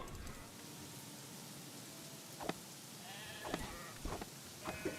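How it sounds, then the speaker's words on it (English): Sheep in the game Craftopia bleat several times in short, moderately loud calls over a steady background hiss, the bleats spaced irregularly through the second half. "Are they literally just two sheep? Ah, here's some more."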